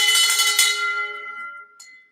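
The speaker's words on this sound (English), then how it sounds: "Bell ring number 2, close." A single bell is struck once to celebrate a closed deal, a bright metallic clang ringing out and fading over about two seconds, with a small knock near the end.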